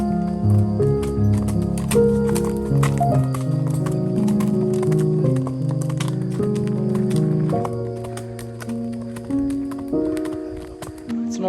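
Horses walking with a steady clip-clop of hooves throughout, close and fairly loud, layered over sustained tonal background sound.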